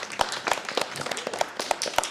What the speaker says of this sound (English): How about you give yourselves a round of applause?